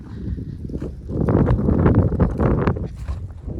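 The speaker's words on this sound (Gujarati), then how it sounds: "હવે પવન જરાક વધારે છે" Strong wind buffets the microphone in loud, gusty bursts that swell in the middle and ease slightly toward the end.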